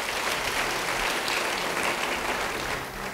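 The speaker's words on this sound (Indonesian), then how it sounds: "Beri tepuk tangan bagi dia." Steady applause from a church congregation, continuous clapping throughout that tapers slightly at the end.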